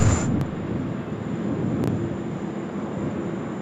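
A Jetstar airliner arriving from Ho Chi Minh City at Sydney Airport, a steady broad roar of jet engines with a high whine, heard loud and constant from nearby.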